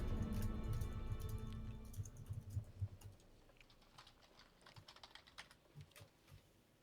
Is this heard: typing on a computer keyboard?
yes